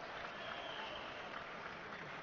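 Home fans at a basketball game applaud steadily, a dense, continuous wash of clapping throughout, moderately distant with no distinct voices.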